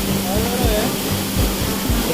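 The seventh waterfall of the Siete Cascadas in Cafayate roars as a steady, dense wash of water noise that fills the whole stretch, with a faint voice partly buried beneath it.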